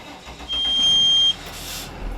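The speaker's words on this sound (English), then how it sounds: "We're going to go ahead and start the engine" A large bus diesel engine with air brakes cranks over: a brief whining starter tone, then a broad rumble as the engine catches and settles into a steady idle, close by with no voices.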